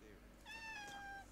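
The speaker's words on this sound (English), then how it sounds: "Yes, that's my cat Rufus, by the way, ladies" A pet cat gives a single drawn-out meow, faint and somewhat distant, with a falling tone against a quiet room background.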